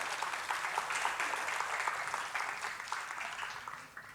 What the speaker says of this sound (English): A huge round of applause for Bharatiya Vidya Bhavan.